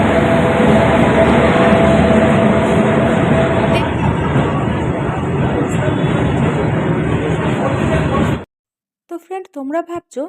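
A loud, continuous rumbling rush of a train moving through a railway station, which suddenly cuts off and gives way to a nearby voice talking.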